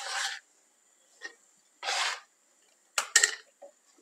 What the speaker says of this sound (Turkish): Fasulyelerimizi bu büyüklükte hepsini tek tek doğruyoruz.